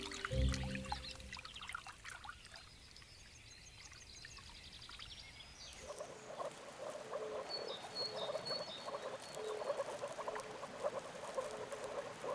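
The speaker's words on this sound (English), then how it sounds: "Moor frogs are among the first spring envoys in Lusatia." Moor frogs in spring water in Lusatia croak in soft, bubbling chorus, with many overlapping calls beside trickling, pattering water, fairly close and steady throughout.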